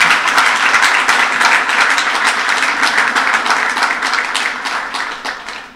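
Applause from an audience in a hall at an international green finance conference, a steady dense clatter of many hands holding at an even level for several seconds before tapering slightly at the end.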